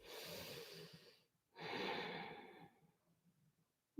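Deep breathing during a yoga twist: two long, airy breaths, each a couple of seconds long with a pause between, close and soft, with no one talking.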